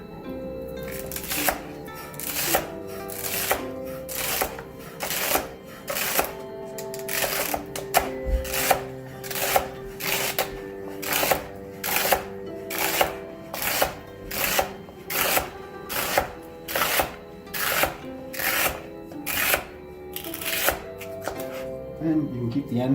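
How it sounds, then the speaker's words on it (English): A knife chopping celery on a cutting board, with steady rhythmic close knocks repeating throughout and more than twenty strokes in even succession. "But that's how you cut your celery."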